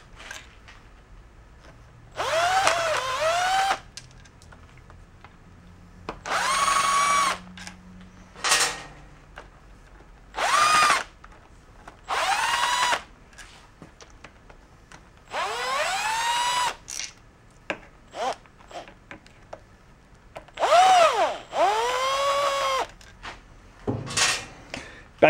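A power drill whirs in short bursts while working on the lower unit of a 1956 Evinrude 10 hp Sportwin outboard motor. The spurts rise and fall in pitch and sit between quiet gaps, close by with no voices.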